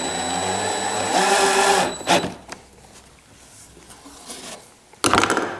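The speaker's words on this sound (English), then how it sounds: "And this is the 12 volt screwdriver." A 12 volt electric screwdriver whirs in short bursts, a loud motor whine for about a second, then quieter handling noises and a final brief burst at the end, all close up.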